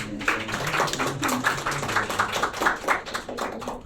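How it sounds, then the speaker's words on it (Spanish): Small group clapping in a classroom or workshop setting, a few minutes of steady uneven hand claps close by, with faint voices murmuring underneath. "Un aplauso para ellos."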